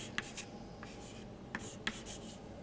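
Chalk or marker writing on a board during a math lecture on homological mirror symmetry: faint scratchy strokes and a few light taps over a steady room hum, without speech.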